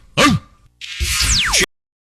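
A man imitates a bulldog's bark: one gruff woof, a brief pause, then a longer rough, growling bark that cuts off abruptly.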